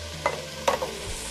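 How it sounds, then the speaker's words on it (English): Onions cooking in a pot during a lamb stew preparation, with two brief clattering stirs over a quiet steady background sizzle. "I cook the onions in this pot"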